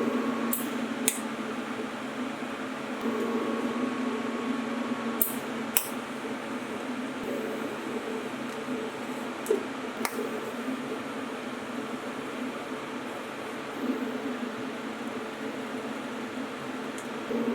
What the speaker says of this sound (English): I'm gonna grab the TIG and set it up and get welding away on this.